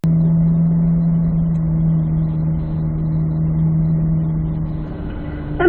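A C8 Z06 Corvette on a racetrack pulling up into third gear, its engine droning loud and steady with a strong low hum before rising sharply at the very end, with no talk.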